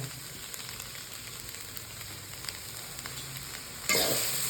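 Goat blood fry with coriander and grated coconut crackles softly in a pan as it is lightly stirred, the gentle sizzle growing suddenly louder toward the end.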